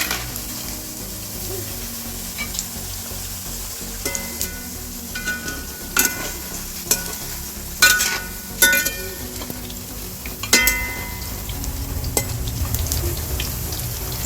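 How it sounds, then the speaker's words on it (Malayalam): Cauliflower gobi 65 deep-frying in hot oil, restaurant style: a steady crackling sizzle fills the whole stretch, broken by several sharp clinks and scrapes of stirring, with no talking. "നല്ല ക്രിസ്പി ആയിട്ടുണ്ട്, നല്ല സൗണ്ട് കേൾക്കുന്നുണ്ട് ഇവിടെ."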